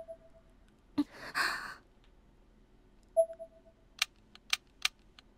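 Doorbell button on a wall in the Corpse Party horror video game, pressed repeatedly but giving only a few short, sharp dry clicks in quick succession, quiet and isolated against near silence.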